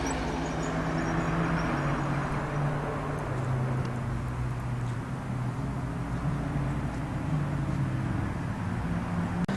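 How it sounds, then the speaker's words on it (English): Classic cars, including a Mark II Volkswagen Golf GTI and a Mercedes Pagoda, drive past on the Oulton Park circuit during the Tour of Cheshire rally, a continuous moderate engine drone and road rumble heard from a short distance. "Mark II Volkswagen Golf GTI, followed up by that gorgeous Pagoda Mercedes."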